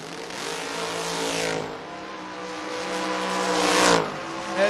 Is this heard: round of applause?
no